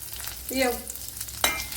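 Garlic cloves and a dried red chili hit melted butter in a pan with a short, close sizzle and a brief crackling stir, lasting under two seconds.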